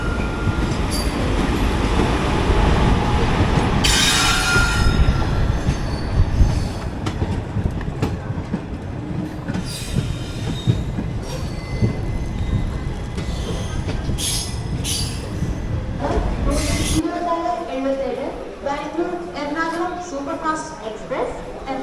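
The 12677 Ernakulam Intercity Express pulls into Ernakulam Junction with rolling wheel clatter and squeals. The rumble cuts out near the end as the train settles, leaving quieter platform ambience.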